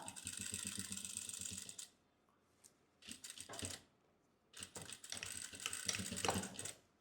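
A sewing machine stitching a baby chest cover runs in three close, loud bursts of rapid mechanical whirring, separated by short quiet pauses.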